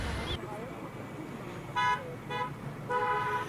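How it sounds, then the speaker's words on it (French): Car horns honking on a roadway near an Airbus A380 test-flight event, several short toots and one longer blast from moderate distance over crowd and traffic noise. "Ça klaxonne."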